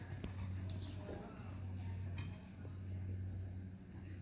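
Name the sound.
horse hooves clip-clopping during a riding lesson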